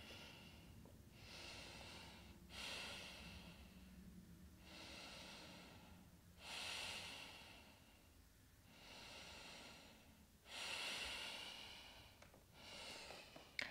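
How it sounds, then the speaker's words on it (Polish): Slow, long breaths during a vinyasa yoga flow come in a regular rhythm of drawn-out, airy inhales and exhales, close and quiet, with nothing else audible. "I trzy długie oddechy."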